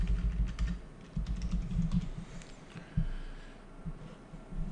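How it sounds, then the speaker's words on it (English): Typing on a computer keyboard while coding a Bootstrap modal, a close run of soft irregular key clicks with short pauses between bursts. "here type, this is the footer"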